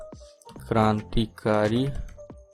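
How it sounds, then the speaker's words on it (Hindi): Keys click on a laptop keyboard as someone types, a few sharp taps scattered around and between a man's speech, which dominates the foreground. "मैं लैपटॉप के कीबोर्ड से इसे टाइपिंग कर रहा हूँ"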